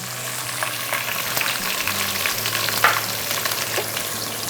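Fenugreek, mustard seeds, garlic and ginger fry in oil for a beetroot pickle, giving a steady crackling sizzle with soft scraping stirs and a few sharp pops, close and continuous.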